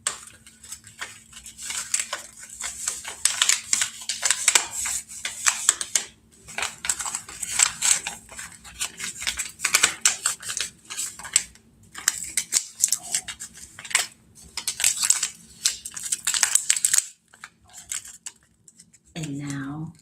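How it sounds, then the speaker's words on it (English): Paper being folded closed around loose sage, a run of close, dry crinkles and rustles in irregular bursts, with a soft voice speaking intermittently and a brief low thud near the end. "now I want you to fold the paper up"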